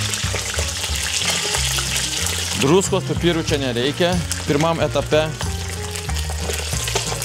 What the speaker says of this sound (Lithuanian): O, kaip čirška.